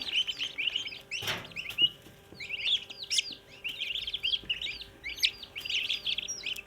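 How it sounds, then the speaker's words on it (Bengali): Young turkey chicks in a brooder give rapid, high, thin peeps in close succession, near and fairly clear, with one brief knock partway through. "এই যে টার্কি বাচ্চাও নিয়ে আসলাম"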